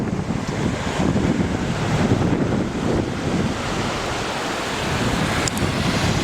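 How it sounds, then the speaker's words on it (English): Strong wind roars and buffets the microphone on the front of a kayak during a back-country paddling trip in drizzle, a continuous loud broadband rush with steady gusts throughout. "Wind's starting to howl like crazy on the front of this thing."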